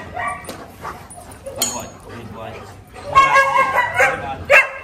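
Dogs bark and yip at a dog training facility, with a trainer's voice calling out over them; the barking grows louder and busier in the second half, ending in a sharp burst.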